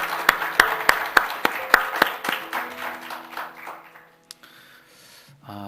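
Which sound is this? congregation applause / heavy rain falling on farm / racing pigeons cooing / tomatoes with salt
congregation applause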